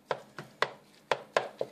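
Ground beef for chili gets smashed in a pot with a spoon or masher, six sharp knocking thuds in an uneven rhythm, close and fairly loud with no talking.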